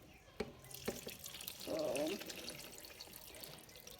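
Water poured from a pot into a drainer over a bowl while cooking gravy and meatballs: a short liquid splash and gush of about half a second, amid kitchen clatter, with a brief word spoken.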